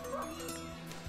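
A short cartoonish dog bark and yip from a Dog House slot video game, playing over music for about a second, with faint speech underneath.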